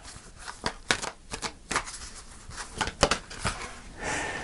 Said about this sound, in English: I'm going to pull a final card, Taurus.